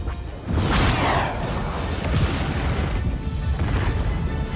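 Explosions and a chain reaction tear through the ion drives of the Revelator in the Star Wars Outlaws game: a loud, sustained rumbling blast with a sweeping whoosh near the start and crashing bursts rolling on throughout.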